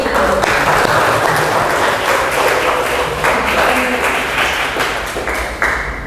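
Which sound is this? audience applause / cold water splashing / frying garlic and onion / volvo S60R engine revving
audience applause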